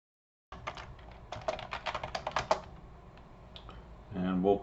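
Close, quick keystrokes on a computer keyboard rattle out in an uneven burst and then thin to a few taps, with a voice starting up at the end.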